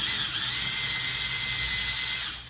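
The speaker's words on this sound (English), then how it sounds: "now we're gonna drill our holes" A drill bores into a door to fit an Emtek dummy door knob, giving a steady, close, high-pitched whine that holds for a couple of seconds and tapers off at the end.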